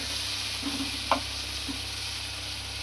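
Ginger, garlic and onion paste fries in a pan for a tangra fish curry, giving a quiet, even sizzle with a couple of faint stirring scrapes and a small clink, no one speaking.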